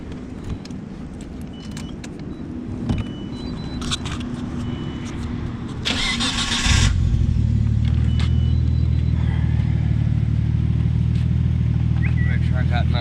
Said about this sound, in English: You can fire the car up right now.